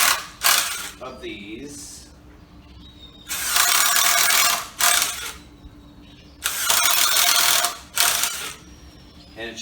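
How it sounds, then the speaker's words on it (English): Power drill pre-drilling holes into wood pieces for a hand-washing sink build, heard as three loud whirring bursts with pauses between them and a brief voice speaking early on. "So your next step is you're going to want to pre-drill some holes into the wood."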